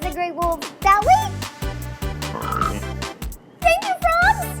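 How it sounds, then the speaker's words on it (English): Cartoon frogs croaking in the Ruby Roo children's video game, a string of bouncy, tonal croaks and warbling calls mixed with game music beats, loud and clear. "Are those frogs talking?"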